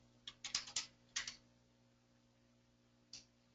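Computer keyboard being typed on: a quick burst of several light clicks in the first second and a half, then quiet, then one more isolated keystroke, all soft and close against a faint steady hum.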